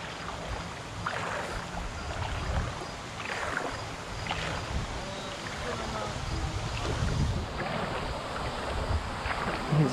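Gusty wind buffets the microphone beside Sheridan Creek, rushing and rumbling in waves over water sounds while people talk faintly underneath.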